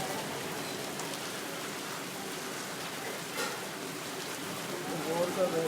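Heavy rain pours steadily in Lahore during a power cut, a dense, even hiss of drops on surfaces continuing throughout, with a slight swell near the end.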